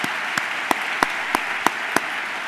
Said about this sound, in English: So if you could give them a round of applause